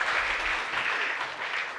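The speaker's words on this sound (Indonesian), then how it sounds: "Tepuk tangan, Steffi." Studio audience applauding after a contestant's kick demonstration on an Indonesian talent show, steady dense clapping filling the whole short stretch at moderate level with no talk over it.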